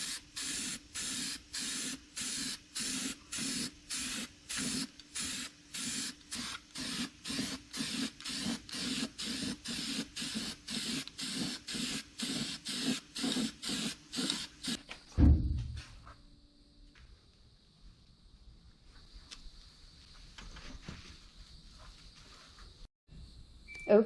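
Glossy black spray paint is applied to a mini truck in quick, regular hissing bursts for about fifteen seconds, then the spraying stops, leaving a quiet room with faint scattered handling sounds.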